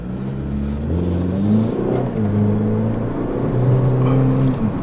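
Wind rushes through an open rear window of a Chevy Cruze LS sedan with a 1.8L four-cylinder engine while driving, a steady whooshing hiss layered over a low engine drone that rises and falls with shifting pitch.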